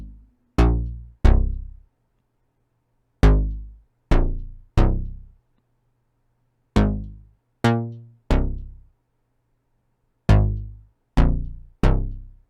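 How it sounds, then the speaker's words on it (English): A deep unison synth bass preset from Diva plays separate plucked notes with sharp attacks and quick decays, landing in uneven groups with gaps between them, heard alone. "I'm using this bass from Diva called Deep Unison"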